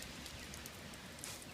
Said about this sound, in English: have had freezing rain on top of snow,